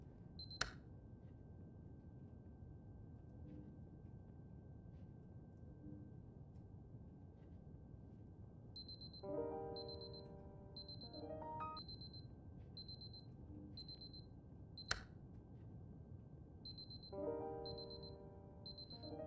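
Electronic beeping from the video game Superliminal: bursts of rapid, evenly spaced high beeps in two clusters, each with a short tonal chime, over a quiet hum and two sharp clicks, no talk.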